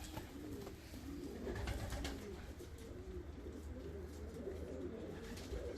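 Fancy black-winged pigeons coo softly in low, repeated throaty calls, close by, over a steady background hum.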